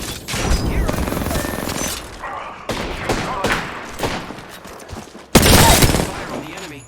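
Gunfire rattles through a video game battle in dense, loud bursts of rapid shots with impacts and brief gaps, including one sharp, heavy volley near the end.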